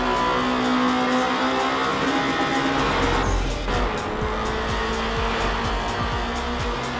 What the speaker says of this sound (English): the engine likes bouncing off the red line every now and then